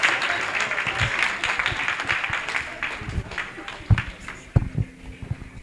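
An audience at a meet and greet applauds, a fairly dense round of clapping with a few heavier thumps that thins out toward the end.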